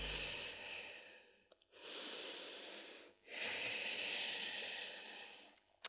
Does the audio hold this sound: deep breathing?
yes